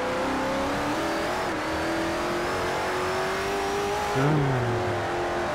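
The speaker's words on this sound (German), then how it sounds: "Und hier draußen vor der Haustür höre ich gerade den 800 PS Camaro losfahren." An 800 hp Camaro in the Forza Horizon 4 racing game pulls away, its engine note climbing in a smooth steady rev before a brief lower surge near the end, with a short spoken word at the start.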